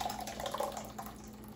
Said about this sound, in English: Now you want to just pour the watermelon into a strainer